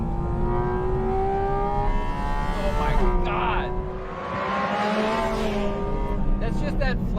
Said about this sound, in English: flat six buzzsaw.